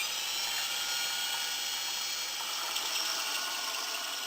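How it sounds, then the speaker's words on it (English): A diamond drill bit grinds into a ceramic plate under running water, a steady high hissing whir that stays loud and unbroken throughout. "I started drilling with the plate at an angle in order to create a groove to start the hole."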